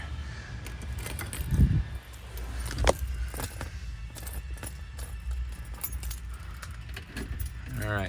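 Keys to a 1955 Chrysler New Yorker Town & Country wagon jangle and clink close by in brief bursts, with a sharper clatter part way through. Faint background noise runs underneath.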